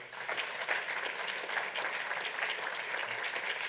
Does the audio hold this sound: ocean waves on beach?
no